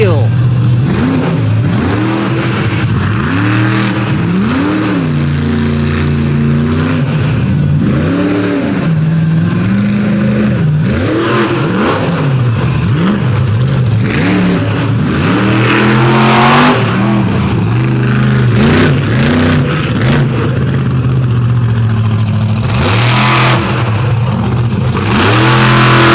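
A big Dodge monster truck at an outlaw monster truck drag event in Canfield, Ohio, its engine revving hard and loud throughout with rising and falling pitch sweeps, a dense roar that persists with no clear break.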